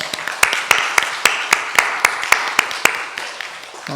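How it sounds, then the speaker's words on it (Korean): A church congregation gives a round of thanks for the men who serve, sharp distinct handclaps falling in a quick, fairly regular rhythm of about a dozen strikes that fade out near the end. "감사의 박수를 한번 하겠습니다"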